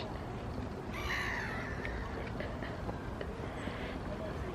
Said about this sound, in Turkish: Acayip sessiz vallahi kuş sesleri filan sadece.